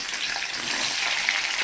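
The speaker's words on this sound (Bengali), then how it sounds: "এবার ভেন্ডিগুলোকে ভেজে নেবো।" Okra fries in hot oil in a wok, giving a steady close hiss of sizzling with fine crackle throughout and no talking.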